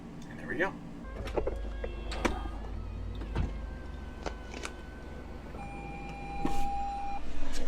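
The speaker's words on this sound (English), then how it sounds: "the rear deck lid pivots up and backward, which exposes the area where the top sits when it's down" A Lexus LC500 convertible's rear deck lid motor whirs with a steady electric whine as the lid pivots open, over a low idling hum, with a few clicks and thumps near the end.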